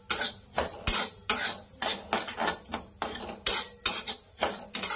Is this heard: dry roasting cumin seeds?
yes